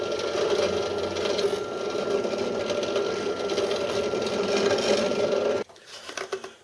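Drill boring a pilot hole through a wooden board while building a table saw miter fence: a steady high whine for several seconds that cuts off abruptly, followed by faint clatter.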